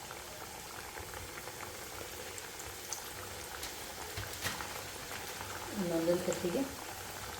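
Nippattu deep-frying in oil over a low flame, a continuous soft bubbling fizz with a brief louder surge near the end, while a voice speaks quietly.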